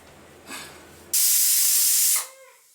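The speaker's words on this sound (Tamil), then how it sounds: "இப்போது ஒரு விசில் அடிச்சிச்சு." A pressure cooker whistles while crab biryani cooks, one loud steady steam hiss of about a second that starts abruptly and tapers off, preceded by a brief softer puff.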